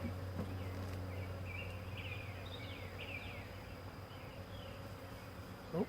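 Bees buzz busily around a beehive being opened and expanded, a close, wavering hum with individual insects darting past, fairly quiet and without talking.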